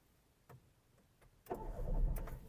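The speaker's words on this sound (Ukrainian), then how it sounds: "Давайте запустимо двигун." A few faint clicks, then a Volkswagen Golf 5 engine cranks and catches, settling into a low rumbling idle nearby.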